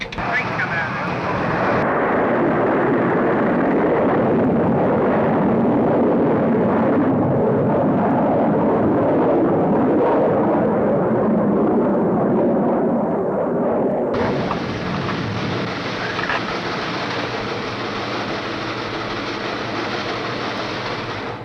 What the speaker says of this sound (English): Firing command. Firing command. Firing command.